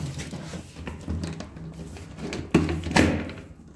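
A PVC accordion door being forced down into its track during installation, giving low rubbing and knocking sounds with two sharper thuds near the end, close by and moderately loud.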